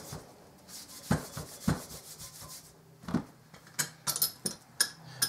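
Rapid scrubbing of a cloth wick coated with buffing compound against a trumpet's main tuning slide, in short irregular strokes with a few sharp knocks, close and fairly quiet.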